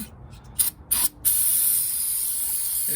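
Several short, sharp bursts of fuel spray close by inside the carburetor of a 1969 Chevrolet Camaro, then a longer continuous hiss that fades slightly as it continues.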